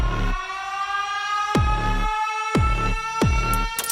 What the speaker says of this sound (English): The increasing siren sound also adds to this